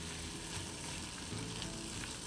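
Celery and minced garlic saute in a pan for a creamy broccoli cheddar soup, a dense, even, close sizzle with faint crackle and no speech.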